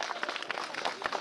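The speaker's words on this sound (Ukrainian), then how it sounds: "Оплески!" Brief applause from an outdoor village festival crowd, a quick patter of clapping, moderately loud and dense, lasting just over a second.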